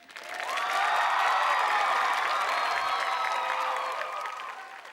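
A studio audience claps for a contestant on a Thai singing competition show, a steady wash of applause that swells, holds for a few seconds, then fades.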